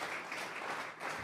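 A church congregation applauding during a sermon, a brief dense wash of many hands clapping together, steady and loud throughout with a slight dip near the end.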